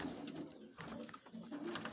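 Pigeons in Mykolaiv coo in soft, low, throaty murmurs, several overlapping calls close by against a faint background hiss.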